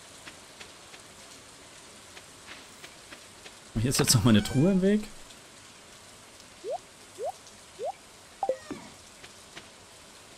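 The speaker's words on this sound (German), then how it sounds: "Draußen regnet's eh" Steady rain patters across the farm in the video game Stardew Valley, a soft continuous hiss running throughout, with someone speaking briefly over it and a few short chirping game sounds toward the end.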